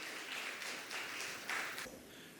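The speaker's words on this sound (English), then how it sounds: "A huge round of applause for Mr." Audience at an AI summit applauding a keynote speaker, a soft, distant-sounding wash of many hands clapping in a few swelling bursts, with no talking over it.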